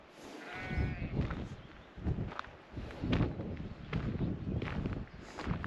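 Sheep bleat several times near a wild camping spot in the Scottish hills, the calls close and fairly loud, with some shuffling footsteps between them.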